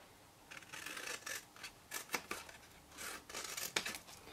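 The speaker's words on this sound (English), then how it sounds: "just cut a little notch out to help with the close" Scissors snipping a small notch into the flap of a card gift box for soap or candles, a run of quick, close, crisp cuts and rustles with short pauses between them.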